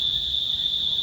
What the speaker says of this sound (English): if you hear crickets in the background